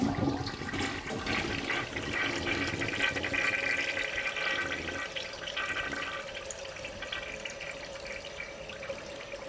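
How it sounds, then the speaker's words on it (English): A toilet flushing after being plunged clear, a steady rushing swirl of water that runs strongly for several seconds and then eases as the bowl drains, close by with no talking. "let's try flushing to see if we've gotten anywhere"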